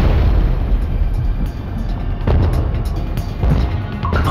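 Deep, muffled rumbling booms roll through a dense wash of low noise, like distant underwater blasts, with no voices.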